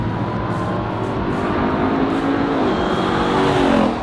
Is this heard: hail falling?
no